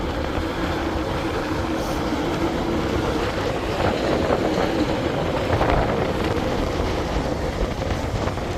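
A train passes in Japan with a steady, loud rumble and clatter of wheels, heard close alongside wind buffeting the microphone, with no talking.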